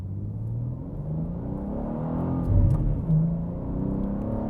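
A 2024 BMW G87 M2 with a manual gearbox idles and rolls at low revs, its engine giving a low, muffled burbling gurgle with slight swells, heard from inside the car.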